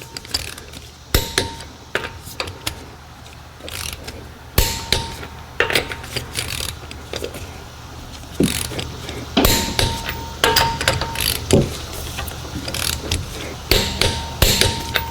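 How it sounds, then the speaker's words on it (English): Torque wrench tightening lug nuts in a crisscross pattern on an Acura MDX wheel, giving loud, sharp mechanical clicks and ratcheting in bursts separated by short pauses. "Now we're gonna torque the lug nuts."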